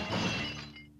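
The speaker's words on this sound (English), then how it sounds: "smash my pots" Ceramic pots smash in the video game The Legend of Zelda: The Wind Waker HD, a single crunchy breaking burst that fades quickly over a steady low game hum.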